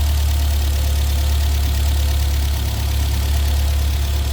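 A 1974 Volvo 1800 ES sport wagon with a fuel-injected engine idles steadily and smoothly, a loud, constant close-up rumble with no variation and no voices.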